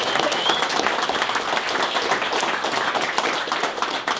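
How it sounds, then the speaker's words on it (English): Crowd at a UK rap battle event bursts into a dense, continuous round of clapping and applause that holds steady throughout, close and loud. "we're always going to have a minute applause for Brother Excel"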